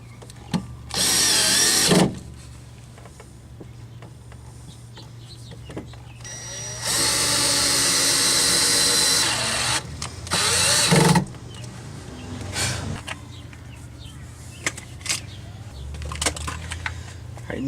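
A power drill with a step bit whirs in several bursts while drilling holes for a Midland MXT275 radio installation, a short one near the start and a longer run in the middle, separated by quieter clattering and handling noises.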